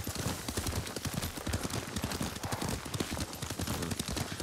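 A horse's hooves clip-clop in a quick, steady gait while being ridden through the Ghost of Tsushima game world, the dense rhythmic beats continuing loudly throughout.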